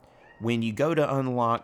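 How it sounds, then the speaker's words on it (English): A pet cat meows loudly and up close in two drawn-out, wavering cries, set in the middle of gameplay commentary for a skateboarding video game, with a person talking just before the meows. "that was my cat in the background"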